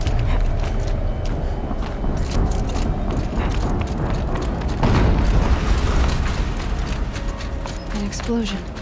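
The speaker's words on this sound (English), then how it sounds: "An explosion." An explosion in the action game Horizon Zero Dawn: a heavy boom bursts out mid-clip amid a dense, constant wash of game sound effects and mechanical clatter, with a voice talking throughout.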